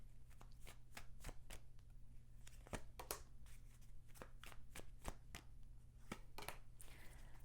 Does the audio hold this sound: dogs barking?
no